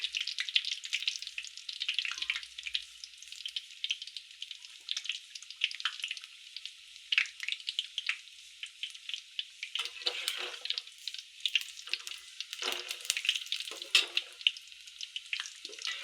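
A batch deep frying in hot oil gives off a thin, bright, continuous sizzle with scattered crackles and pops, moderately loud and close, with no voices.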